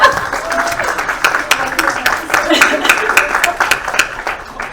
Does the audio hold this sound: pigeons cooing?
no